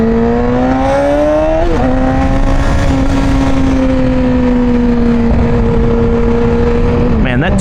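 Exhaust note of a 2009 Yamaha R6 while being ridden, a loud, steady engine drone with wind rush, pitch dipping as the throttle shifts and holding at cruising revs.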